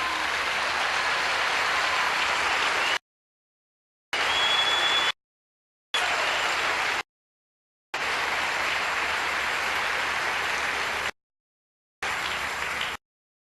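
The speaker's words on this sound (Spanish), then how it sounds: "Un aplauso para él." A church congregation applauds the preacher in steady, dense bursts of clapping, broken by abrupt silent gaps, with no voices over it.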